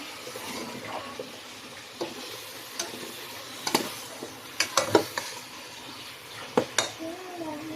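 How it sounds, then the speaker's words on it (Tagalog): Vegetables with bagoong are stirred in a cooking pot over a low sizzle, with scattered scraping clinks of a utensil against the metal, some close and sharp, and a voice speaking in the background. "halo-haloin na natin"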